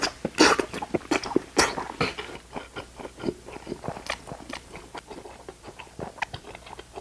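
Someone eats spicy Chinese glass-noodle carbonara with capsaicin up close to the microphone, giving wet chewing, biting and slurping noises in an uneven run of sharp crunchy bursts and softer mouth sounds, with no talking.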